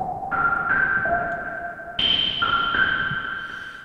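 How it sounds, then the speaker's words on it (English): A GForce AXXESS software synth preset plays a self-resonant filtered tone with distortion, delay, reverb and noise, gliding between sustained pitched notes that ring and echo, then jumping higher around midway, alone with no talking. "It sets up self-resonant filter, puts a bit of distortion, delay, reverb on it, and a bit of noise"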